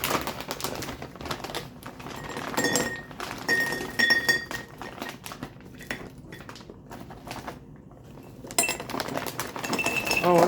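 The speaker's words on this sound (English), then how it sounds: "we're gonna put the taffy with the packaging on it in these jars" Wrapped taffy candies dropped and set into glass jars, giving a string of sharp glassy clinks and light taps at close range, with brief busy clusters and quieter gaps between.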